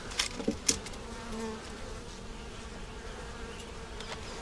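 Honeybees buzz steadily around an opened hive being reworked with foundation frames, a dense close drone with a few sharper passes near the start and no talking.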